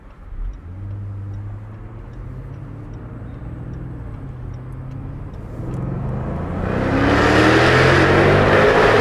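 A 2021 Jaguar F-Type R AWD convertible in race mode, its engine and exhaust rising from a low rumble to a loud, raspy roar as it accelerates, heard alone.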